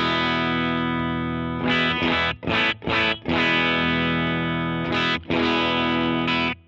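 Electric guitar played through a Crowther Hotcake overdrive pedal, loud and alone, with thick, gritty chords ringing out, cut by several brief choppy stops and restarts before sustaining again.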